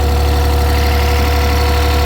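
A Kobelco 30 mini excavator's engine runs just after starting, a loud, steady, close-up mechanical drone with no clear rise in pitch and no talking.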